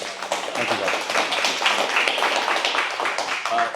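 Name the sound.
audience applause for the speakers Todd and Alice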